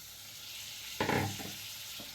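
Tomatoes dropped into a pan of frying onions and fish for a fish curry set off one sudden loud sizzle that settles into a softer bubbling crackle over a steady hiss.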